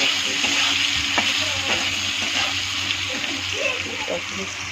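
Turmeric is stirred into a frying pan of cut potatoes, a steady sizzle with wet splattering and spoon scrapes close by, continuing without pause.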